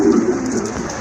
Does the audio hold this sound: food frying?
no